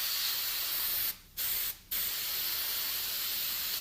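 A paint sprayer blows out air and spray while being cleaned, giving a loud steady hiss cut by two short pauses where the trigger is released, with no voices.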